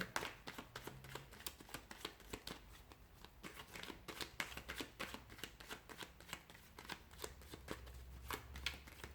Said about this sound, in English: let's begin by giving the cards a shuffle.